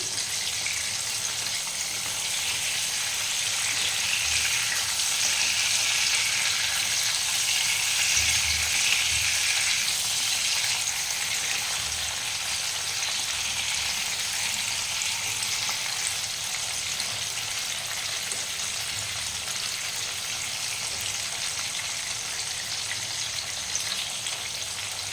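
Prawns frying in a pan for chingri malai curry, a steady, close sizzle of hot oil filling the whole stretch with occasional low stirring bumps, no voices.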